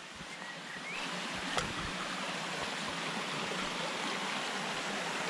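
A river or burn flows steadily through a glen on a countryside walk, a continuous broadband rush of running water that stays fairly loud and even throughout, with no voices.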